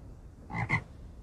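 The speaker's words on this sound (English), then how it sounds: "Frog." Frog croaking from a kids' animal-sounds game, heard as two quick, close, ribbity croaks in a row, short and clear against a quiet background.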